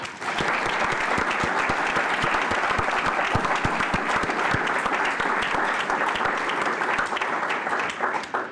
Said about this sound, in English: Can we give the organizers a round of applause?